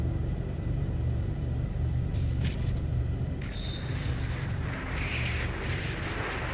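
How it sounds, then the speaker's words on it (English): A deep, continuous roar of storm wind in the video game No Man's Sky rumbles steadily, with a hissing gust rising in the second half, loud and close throughout. "Listen to that wind."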